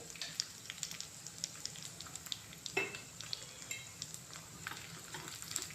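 A tempering of small shallots, garlic, mustard seeds, cumin and red chilli sputters in hot oil for amaranth-leaf dal, faint scattered pops and crackles over a quiet kitchen hum.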